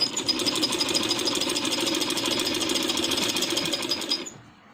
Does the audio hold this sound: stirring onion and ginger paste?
no